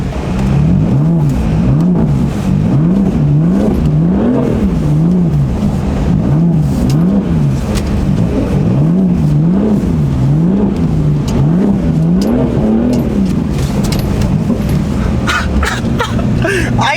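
BMW M4 driven on snow with traction control fully off, its engine loud and close, revving up and down in repeated surges as the wheels spin and bog.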